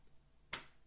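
A single sharp finger snap during a body percussion activity, crisp and brief, close by in a quiet room.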